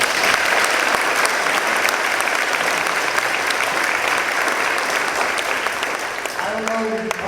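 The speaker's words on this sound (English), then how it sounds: "Everybody clap for them one more time, please." Sustained applause from an audience at a high school National Honor Society induction ceremony, steady and dense clapping filling the room throughout.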